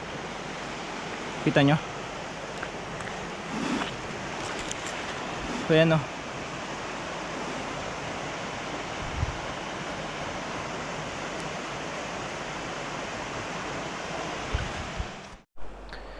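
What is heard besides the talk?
strong current of a river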